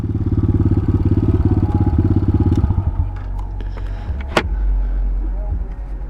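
A dual sport motorcycle carrying a BMX bike rumbles at steady low revs with a pulsing engine beat that eases off midway, leaving wind and road noise with a brief sharp click.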